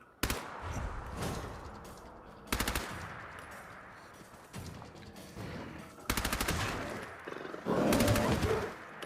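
Player weapon fire in Fallout 4 during a fight with a mutated bear in the wasteland: several loud bursts of rapid automatic shots separated by short pauses, close and sharp, with no talking.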